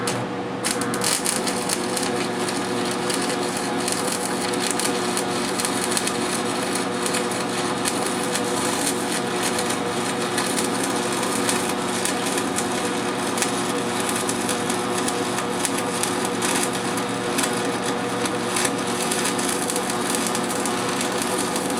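A Century arc welder running on DC gives off a steady, dense crackling buzz with an underlying electrical hum. It holds unbroken and fairly loud for the whole stretch, with no voices.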